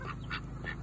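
Ducks quack in a quick run of a few calls, close by and fairly faint, in a brief burst with nothing else over them.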